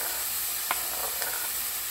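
Tomato dropped into a quick sofrito for a warm oriental salad, giving a steady sizzle with a couple of brief soft clinks.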